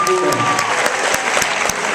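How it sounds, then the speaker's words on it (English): Audience clapping at a school hypnosis show, a steady wash of applause across the clip with a hypnotist's voice talking faintly over it. "Give me a nice big round of applause."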